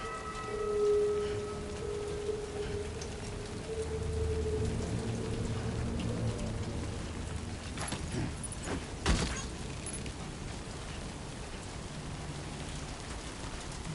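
Steady rain falling in Death Stranding 2, a dense, even hiss of drops on surfaces that continues for the whole stretch, with a couple of brief sharper knocks partway through and no voices.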